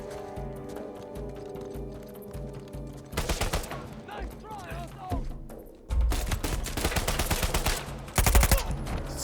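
Bursts of submachine-gun fire in Uncharted 4, loud rapid volleys in several clusters over a continuous game soundtrack, with a brief gap between firefights.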